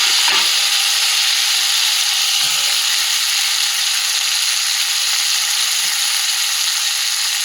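Curry leaves, tomato and ginger fry in a pan with a loud, continuous close-up sizzle and hiss, plus a few soft stirring knocks.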